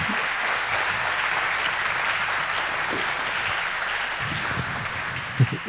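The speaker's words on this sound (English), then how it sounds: "Enjoy your applause. Well deserved." A conference audience at the SHA2017 hacker camp gives a speaker sustained applause after a talk, a dense even wash of clapping that runs throughout and ends with a brief louder thump.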